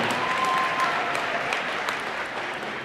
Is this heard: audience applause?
yes